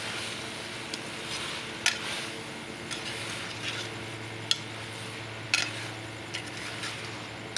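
Spices being stirred into okra in a pan: a soft, continuous sizzle with a low hum underneath and occasional sharp clinks of a utensil against the metal pan.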